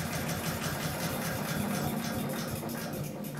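A running engine on a wood chipper drones steadily and close by, a continuous mid-low hum with constant vibration and no clear change in speed.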